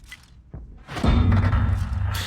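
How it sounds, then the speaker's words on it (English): An enemy shell striking the upper part of a Jagdtiger 8,8 tank in World of Tanks, heard as a sharp thud followed by a heavy, sustained rumbling impact. "he hit the upper part of our tank"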